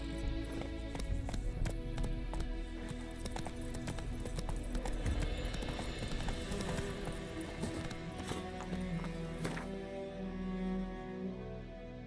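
Roach the horse gallops in The Witcher 3 video game, a continuous fast hoofbeat rhythm that carries on beneath dense game music and ambience before easing off near the end.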